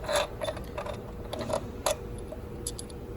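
A ratchet wrench works the water pump bolts on a Mercedes S450 with the M276 V6 engine, producing irregular close clicks and mechanical ratcheting in a quiet garage.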